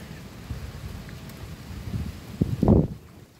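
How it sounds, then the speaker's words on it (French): Steady rain falls during a summer thunderstorm with strong gusts in Meyzieu, a soft continuous hiss with a low rumbling swell near the end. "ça commence à bien pleuvoir déjà"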